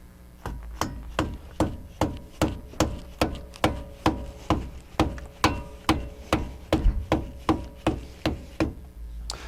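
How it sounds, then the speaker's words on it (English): Repeated dead blow hammer blows tapping a brake dust cap into place on a 1987-1993 Mustang, about two per second, evenly paced solid thuds on metal, close and fairly loud, with no voices. "using a dead blow hammer, tap your dust cap back into place"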